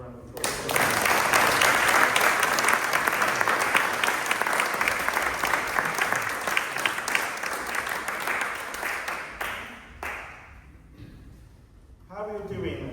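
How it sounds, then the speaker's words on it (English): Audience applause at a World Suicide Prevention Day performance, a sustained round of clapping from a crowd that dies away, followed by a brief pause before a voice speaks. "Can we give people a round of applause?"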